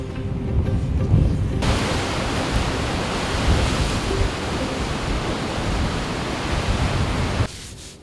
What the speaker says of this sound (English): I can hear them, blowholes.